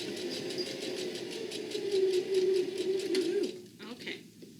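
A sewing machine stitching a cross-body phone bag, its rapid, even mechanical whir running steadily, then stopping abruptly near the end.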